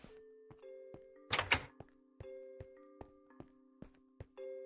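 A single door in modded Minecraft Tekkit shuts with a short, sharp thunk partway through, set among evenly spaced soft clicks and sustained tones, with no voices.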